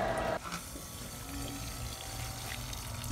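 A Little Giant condensate pump pushing water out, heard as a steady rushing, pouring flow of water with a faint motor hum underneath, continuous and fairly close.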